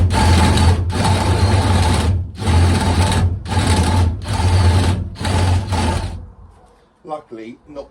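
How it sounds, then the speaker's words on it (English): A 32mm spade bit driven by a power drill into a workpiece, six loud whirring bursts of about a second each separated by short pauses, then quiet with a voice speaking at the end. "So just going in with a 32mm spade bit."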